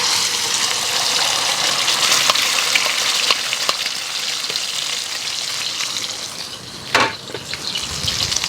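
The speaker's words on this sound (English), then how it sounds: "So the eggs are cooking." Eggs fry in very hot oil with a steady, dense sizzle and crackle throughout, close and loud, with a brief sharper burst of spattering near the end.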